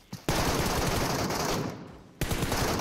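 Sustained burst of automatic gunfire in PUBG Mobile, loud and close, running for about two seconds before cutting out briefly and then resuming, with no talk over it.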